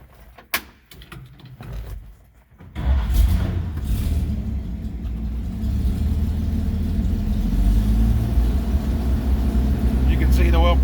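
1951 Chevy 6400 truck's old engine cranks after some clicks and knocks, then fires and settles into a steady, close, low-pitched rumbling run.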